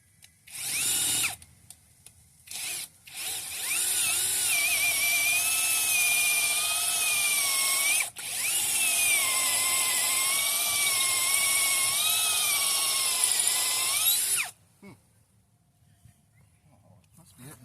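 A Makita DDF487 cordless drill whirs loudly in a long sustained run after a few short starts, its pitch wavering under load before stopping abruptly.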